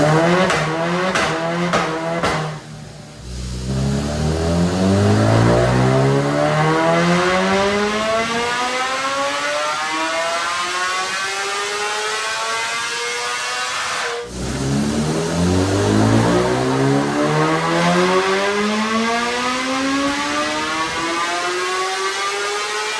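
A 2026 BMW M1000RR superbike with stage 2 mapping is revved hard on a dyno, two long full-throttle pulls with rising wailing engine pitch climbing through the gears, loud and close with a brief drop between runs.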